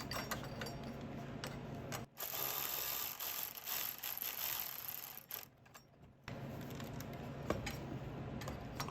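Rapid clicking of a ratchet wrench tightening nuts on a 3rd-generation Nissan Murano battery, close and steady in several runs separated by brief pauses.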